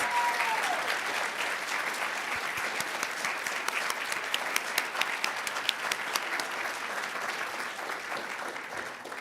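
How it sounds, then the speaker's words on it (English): Sustained applause from a seated audience at a nursing school pinning ceremony, honouring faculty who stand in the room; dense, even clapping fills the space at steady loudness from start to finish, with a faint voice briefly at the opening. "Let's please give them a round of applause."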